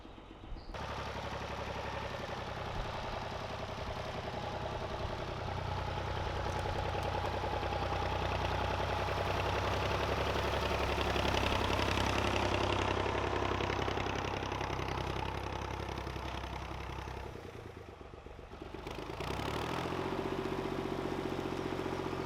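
A digger engine idles steadily and close, a low continuous rumble with a brief dip near the end before it settles again; no one speaks.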